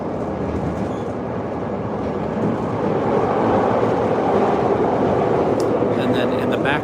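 A Chicago Green Line elevated metro train passing near Cermak, a loud continuous rumble of wheels on rails with a faint clatter and a brief high squeal toward the end.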